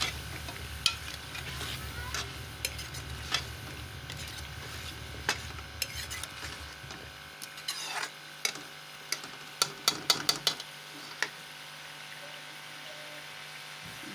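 Half a kilogram of potatoes being fried and stirred for aloo gobhi makes a soft, low sizzle, with scattered sharp clicks and scrapes of the spoon against the pan. The sound is quiet and close, with no talking.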